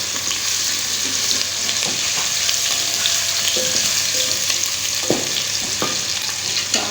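Browned onions sizzle loudly in a pan with ginger garlic paste for a moringa flower chicken dish, a steady dense frying hiss broken by occasional stirring scrapes.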